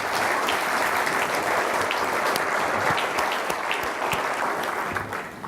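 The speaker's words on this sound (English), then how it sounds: "Can we give them a round of applause?" An audience at the 2018 Villanova School of Business Leaders Forum gives its advisory council members a round of applause, with dense, steady clapping throughout that fades slightly at the end.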